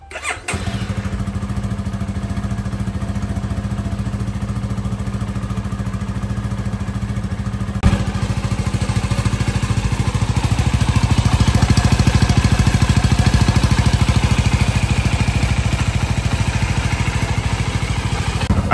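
2023 CFMOTO 300SS motorcycle cranks briefly and fires up, then runs steadily close by with a buzzy mid-pitched idle that rises a little mid-way, no voices over it.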